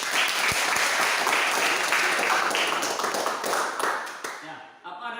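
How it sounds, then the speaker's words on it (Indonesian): A classroom group gives a round of applause for the third student group, a dense wash of clapping that fills the room and fades out toward the end, with a few voices mixed in. "coba beri aplaus kepada kelompok 3"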